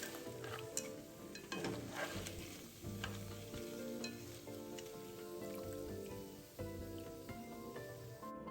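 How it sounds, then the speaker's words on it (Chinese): Spring roll wrappers deep-frying in hot oil, a continuous crackling sizzle with scattered pops and stirring clatter, fairly close over soft background music. "相同步骤重复油炸至全部完成"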